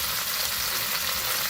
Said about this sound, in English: I do like to grab some of my onions and garlic that I've chopped up and get a little browning on them